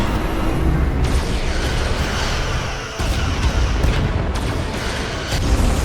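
Starship weapons fire and explosions in the Star Trek: Resurgence video game: a dense, continuous roar of blasts and booming impacts, loud and layered, with a short dip before the barrage surges again.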